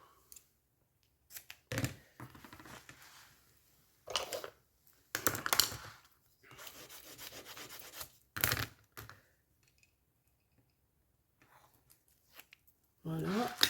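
Paper for a small Christmas album is cut in several short bursts of scissor snips and rustling, close by, separated by quiet pauses.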